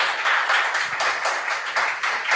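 Applause from an audience at a school quiz competition: a short burst of fairly soft, steady clapping that runs for a couple of seconds with no voices over it.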